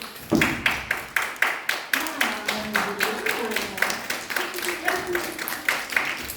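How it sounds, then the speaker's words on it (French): At a school Christmas show, the audience claps for Santa's elf musicians in a strong rhythmic beat, about two claps per second. Children's voices and chatter carry over the clapping. "Veuillez applaudir les lutins musiciens du Père Noël."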